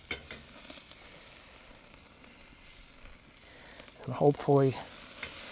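Food sizzles on a grill grate over a hot fire, a low steady crackle and hiss in the background, with a short burst of speech near the end.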